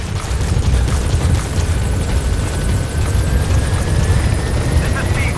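The Pequod helicopter in Metal Gear Solid V arrives with a loud, steady rotor roar and a low thumping drone that holds constant throughout, close and dominant.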